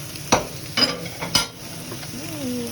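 Chorizo and meatballs for lomi cooking in a pan, with a few sharp clanks of stirring against metal over a low, steady sizzle, close and moderately loud with no talking.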